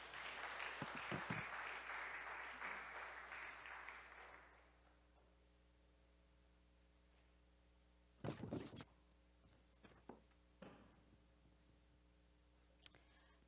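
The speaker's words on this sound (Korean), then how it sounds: "우리 혜연 자매 나올 때 박수로 우리 격려했으면 좋겠습니다" A church gathering gives warm applause for about four seconds as a young woman comes up to speak. The clapping fades into a quiet, humming room, broken by a few short thumps and clicks.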